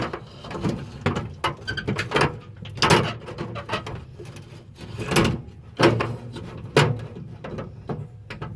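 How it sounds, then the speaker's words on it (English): A drawer being slid back into a Harbor Freight US General tool cabinet: repeated clattering metal scrapes, knocks and rattles in an uneven rhythm, close and fairly loud, with no talking. "So then we're going to put our drawer back on."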